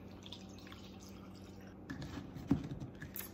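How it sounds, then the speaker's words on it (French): Water from a Brita filter pours into a container as a faint, close trickle with a few drips, quiet and brief in a calm room. "on fill up avec de l'eau qui vient du Brita"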